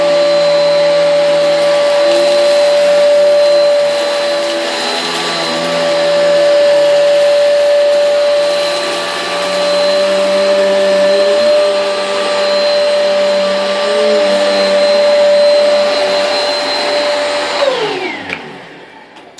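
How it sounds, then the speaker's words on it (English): A Eureka Airspeed Ultra upright vacuum cleaner runs with a loud, steady high whine and motor drone, holding constant for most of the stretch before spinning down at the end. "We will turn it on and get the cleaner going."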